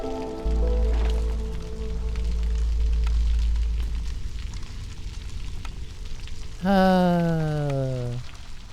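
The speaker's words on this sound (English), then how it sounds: "The rain has come and gone." Steady rain hiss falls in the city-building video game Against the Storm, continuous and even across the clip, beneath game music tones and a brief rising then falling voice-like synth sweep near the end.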